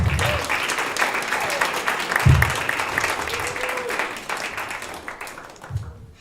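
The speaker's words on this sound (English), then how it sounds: "would you please give a round of applause to our wonderful panelists and welcome them here" Conference audience applauding panelists at a food and hunger event, sustained clapping from a sizable crowd that gradually thins and fades out, with a few low voice murmurs underneath.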